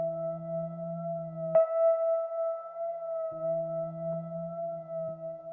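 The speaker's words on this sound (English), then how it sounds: "you're hearing that low and it sounds warped and creepy, but then it cuts instantly" A spooky synth effect in a horror-style tune holds a steady tone while a low layer drops out abruptly, then comes back warped and wobbling, as if at half speed. It sounds moderately loud, with no voices.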